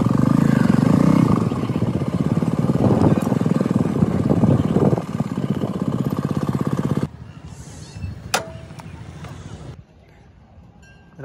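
Motorcycle engine idling and revving loudly while being parked outside a temple in Vizianagaram, with rattling clatter, then cutting off to quieter background with a clink and faint distant noise.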